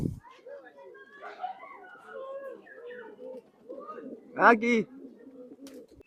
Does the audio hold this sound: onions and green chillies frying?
no